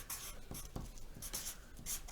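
Marker tip scratching and squeaking across paper in short strokes, writing words for a Valentine's Day art project, close and fairly quiet with brief pauses between strokes; no talking.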